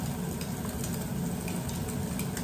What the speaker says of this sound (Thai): เอาแครอทลงไปผัดซะก่อนจ้า